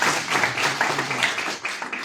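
A conference audience claps in a dense, steady spatter of applause that carries on for a couple of seconds before thinning toward the end.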